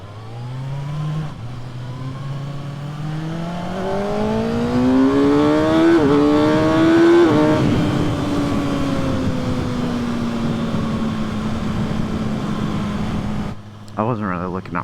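A 2024 Kawasaki ZX-6R 600cc sport motorcycle engine revs up close, pitch climbing in steps as gears shift, then settling into a steady drone before easing off.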